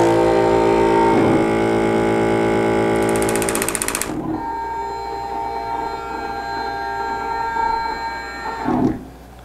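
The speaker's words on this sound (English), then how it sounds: "Press the start button. This will fill the system with pretreatment fluid." A Viper XPT-6000 printer's pump fills the system with pretreatment fluid, giving a loud buzzing mechanical whir for the first few seconds before settling into a lower, steady motorized hum with a brief surge near the end.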